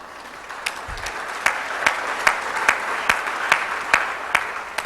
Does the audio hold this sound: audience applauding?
yes